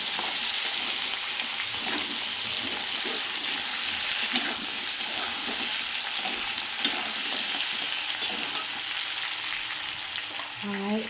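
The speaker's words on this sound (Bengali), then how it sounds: "কড়াইয়ের মধ্যে আমি তেল দিয়ে কালো জিরে লঙ্কা ফোড়ন দিয়েছি, দিয়ে আলুটা ভেজে নিচ্ছি।" Potatoes fry in oil with nigella seeds and chilli in a wok, a close, steady sizzle with occasional scraping stirs and a light crackle throughout.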